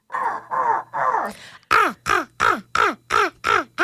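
A person imitates crow caws with the voice, a run of harsh, repeated caw calls: three longer drawn caws followed by six or so short, evenly spaced caws, loud and close with no other sounds.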